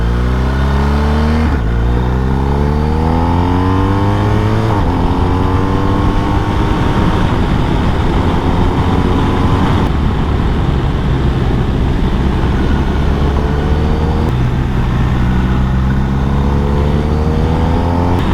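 A 2023 BMW R 1250 RS SE motorcycle engine accelerating through repeated gear pulls out of bends, its loud, smooth rising drone swelling again after each shift over constant road and wind noise.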